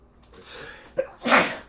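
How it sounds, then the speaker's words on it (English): A single close sneeze from a person during a live art stream, with a short wind-up breath before the loud, sharp burst near the end. "I think I'm going to sneeze."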